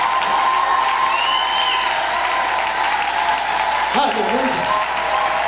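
A congregation at a women's church conference applauding steadily and loudly, with a voice calling out over the clapping near the end.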